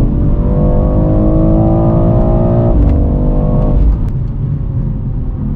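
Loud interior engine roar from a 2022 BMW X3M Competition accelerating, the pitch climbing and then dropping sharply at a quick gear shift before rising again.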